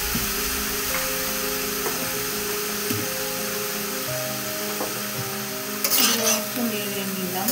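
Bottle gourd with salt is stirred in a pan for a Bengali milk dish, soft scraping and sizzling with a brief louder clatter, steady and close.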